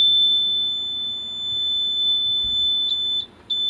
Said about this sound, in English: When you hear that beep, then you know you've successfully fixed it.